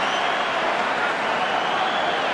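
Broad roar of a stadium crowd at a Wales versus New Zealand rugby test, a steady, dense wash of cheering and noise that holds loud and unbroken throughout.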